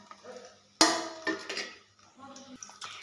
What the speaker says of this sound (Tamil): இப்போ எண்ணெய் காஞ்சிருச்சு, நம்ம வெங்காயத்தை போட்டு வதக்கிக்கலாம்